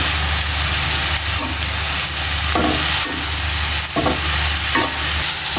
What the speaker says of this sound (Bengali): পেঁয়াজ বাজির মধ্যে শাকটি দিয়ে দিছি লবণ দিয়ে দিলাম শাকটা ভেজে নয়